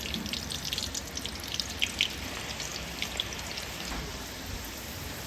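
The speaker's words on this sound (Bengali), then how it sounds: "এরপর আমরা ভিজানো ছোলাগুলোকেও ভেজে নেব" Soaked chickpeas fry in hot oil with a soft, continuous rain-like hiss, dotted with small irregular pops and crackles at moderate distance.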